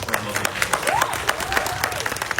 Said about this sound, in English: let's give one more great round of applause for lovely